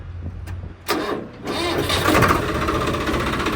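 A Sonalika 65 hp CRDI tractor cranks with short bursts of the starter, then catches and settles into a loud, steady diesel idle close by.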